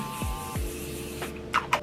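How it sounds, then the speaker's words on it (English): Morphe setting spray misted onto a face during a makeup routine: two quick, soft spritzes near the end, close to the listener, after a stretch of quiet room tone. "Now I'm back into the Morphe setting spray. I'll spray my whole face."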